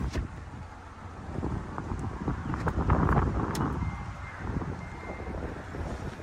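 Wind gusts outdoors around a parked 2026 GMC Terrain AT4, producing a loud, rumbling buffet against the microphone that rises and falls across the whole stretch, with no voices.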